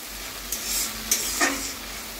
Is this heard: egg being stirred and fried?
yes